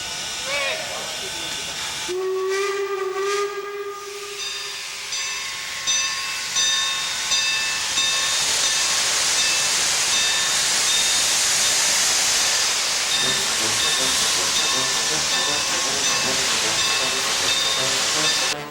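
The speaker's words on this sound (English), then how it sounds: "Here comes the train." A steam train's whistle blasts loudly over heavy hissing steam, followed by the rhythmic chuffing and rumble of the locomotive rolling close by.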